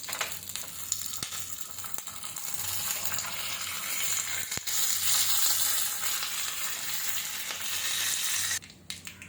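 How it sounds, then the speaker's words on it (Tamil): Mustard seeds, dal and curry leaves crackle and sizzle in hot oil for a tomato chutney tempering, a steady close hiss scattered with sharp pops and spatters. "கடுகு இந்த பருப்பும் கருவேப்பிலையும் போட்டு லைட்டாக தாளித்து எடுத்துக்கலாம்."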